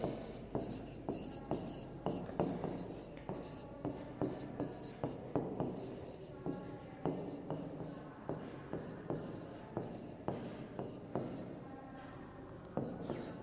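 A pen scratches out handwritten English sentences on paper in quick, rhythmic strokes and taps, close and fairly quiet, continuing steadily with brief pauses and no talking.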